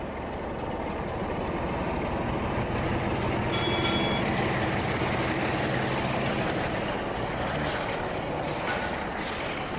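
A train in The Railway UE4 railway simulation game approaches a signal with a steady, heavy rumble that stays loud throughout, and a brief high ringing tone appears partway through.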